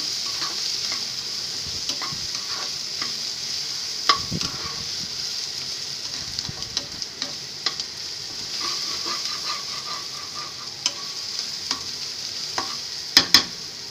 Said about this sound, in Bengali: খুব ভালো করে নেড়ে নিচ্ছি আমি।